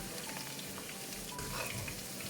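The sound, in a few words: chicken pieces deep frying in oil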